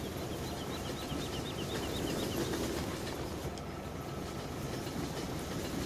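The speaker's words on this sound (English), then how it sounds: "Sit here for half the video waiting on the train to go by." A long train rolls by on the tracks in the Farming Simulator 17 video game, a continuous rumbling clatter of rail cars with rhythmic clicks, steady and fairly loud, while faint bird chirps sound in the background.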